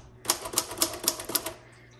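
A 1954 Royal HH desktop typewriter, repainted, types a quick run of about eight sharp, evenly spaced key strikes, close and clear against a quiet room.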